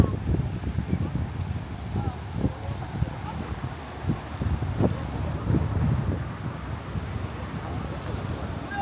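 Strong wind blows across the microphone outdoors during a company group trip in Fukuoka, a steady blustery roar with low rumbling gusts throughout, while people talk over it.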